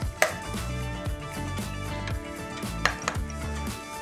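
A knife chopping raw chicken into small pieces on a board in a home kitchen, a steady run of close, sharp thudding cuts repeating in quick rhythm, with no talk.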